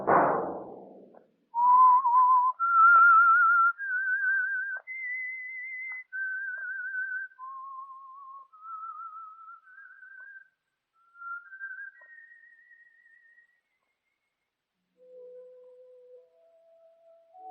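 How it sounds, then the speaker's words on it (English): A lone human whistler performs an eerie melodic radio-show theme, a series of sustained wavering notes with a vibrato quality that step up and down in pitch. The tone is clear and solo, with short gaps between phrases and a soft thump at the very start. "Let that whistle be your signal for the Signal Oil program, The Whistler."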